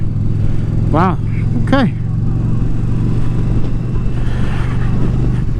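A 2020 Indian Challenger motorcycle engine holds a loud, steady drone up close while a rider speaks briefly over it, with short rising whines as the throttle surges.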